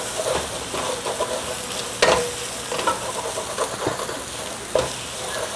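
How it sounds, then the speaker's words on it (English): Ginger garlic paste stirred and fried in a pan over low-medium heat, a steady close sizzle broken by several sharp scraping clinks of the spoon against the bottom. "So now you need to constantly stir it, because the ginger garlic paste will stick to the bottom."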